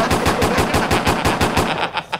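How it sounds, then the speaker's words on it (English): A loud gunshot sound effect of rapid automatic fire, about a dozen evenly spaced bursts in quick succession, with no voices over it. "Gunshots."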